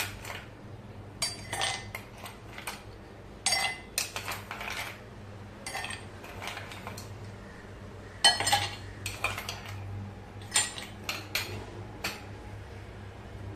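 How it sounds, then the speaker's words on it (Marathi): Ice cubes drop into a glass for a chilled raw-mango panha, giving a series of sharp, close clinks and rattles in irregular bursts over a quiet kitchen background. "आता थंडगार पन्ह तयार करण्यासाठी ग्लासामध्ये आपण बर्फाचे तुकडे घालूया।"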